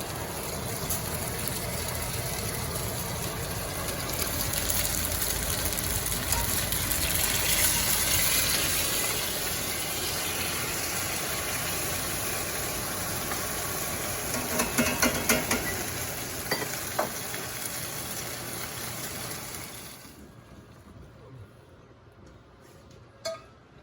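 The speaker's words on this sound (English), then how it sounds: "There, I dumped some pasta." Dry pasta dumped into a pot in a home kitchen, a steady watery rush and gush with scattered clinks of pieces hitting the pot, fairly loud and close, fading out near the end.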